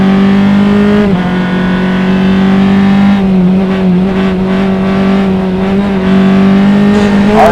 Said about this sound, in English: only Formula Enterprise Mazda-powered car out there, but he'll race hard with anybody around him.